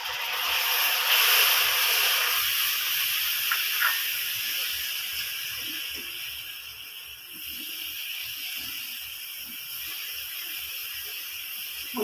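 Tomato goes into hot oil with chilli, turmeric and other spices, and a continuous soft sizzle and hiss of frying carries on steadily throughout, with no voices.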